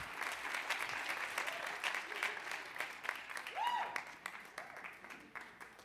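Crowd at an exhibition opening for The Ways of Langston Hughes applauds warmly, a thick, continuous wash of clapping with a few rising whoops and cheers mixed in and some voices underneath.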